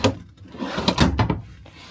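A wooden drawer in a Thor Pasadena RV slides open and shut nearby, a few quick scraping and knocking sounds close together.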